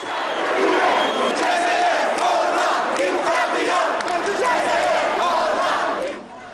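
Crowd of Algerian students chanting slogans at a rally outside the Algiers courthouse, a dense roar of many voices rising and falling steadily and loudly throughout before fading at the end.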